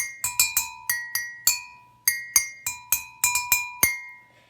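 Homemade instrument of water-filled glasses tapped in a simple melody, about a dozen bright ringing clinks at two pitches in an uneven rhythm, close and clear with no talk.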